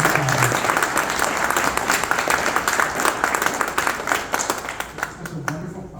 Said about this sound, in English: We need to give a round of applause to Julie Thompson-Dopkin